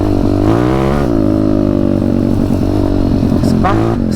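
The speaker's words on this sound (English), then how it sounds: "Spinning that back wheel" A WPB 190 pit bike fitted with a NIBBI carburettor revs hard, its engine note rising and falling as the back wheel spins in long grass, loud and close throughout with a throaty, continuous roar.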